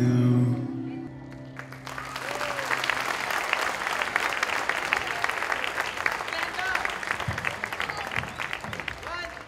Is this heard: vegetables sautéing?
no